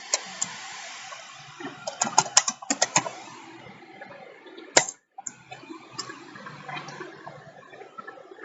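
Keys tapped on a computer keyboard in quick irregular bursts, some louder clacks among softer presses, close and fairly quiet.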